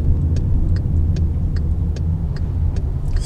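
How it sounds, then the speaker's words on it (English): Cars drive along a quiet residential street lined with parked cars, a steady low road rumble with passing tire and engine noise and faint regular ticking throughout, no talk. "here's a few cars coming"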